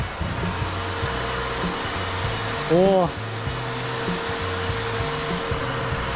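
An industrial vacuum cleaning a factory ceiling roars steadily with a droning hum, one brief louder surge midway, and a short voiced sound from a worker.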